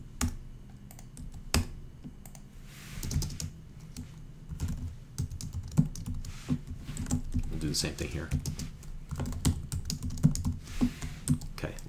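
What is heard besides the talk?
typing code on a computer keyboard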